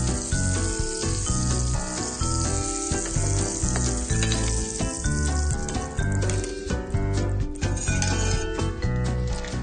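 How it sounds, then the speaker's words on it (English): Beef and foie gras sear in a very hot pan, giving a loud, continuous sizzle with occasional metallic clinks and music running over it. "The pan has to be good and hot, so you get a nice golden brown color."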